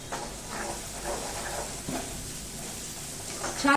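Chopped onions sauté in oil with a little salt, a soft continuous sizzle close by, with a brief louder clatter at the very end.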